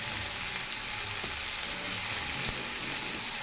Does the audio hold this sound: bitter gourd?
yes